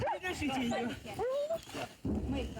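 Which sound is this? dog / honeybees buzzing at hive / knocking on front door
dog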